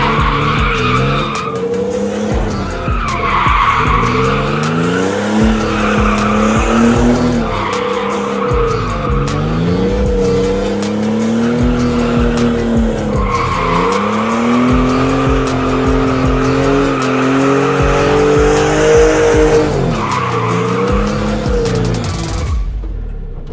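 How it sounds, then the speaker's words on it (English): A car squeals its tires in a sustained handbrake-initiated drift, its engine revving and rising in pitch beneath the loud, continuous screech, which swells and falls over about twenty seconds before cutting off. "When you initiate with the handbrake, there is no such thing as too little speed, because the handbrake will slow you down."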